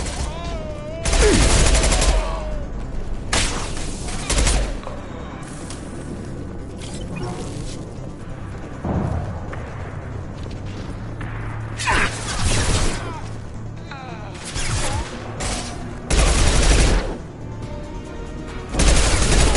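Combat in Mass Effect 2 brings bursts of loud gunfire, rattling volleys and booming impacts in scattered clusters, with voices talking between the shots.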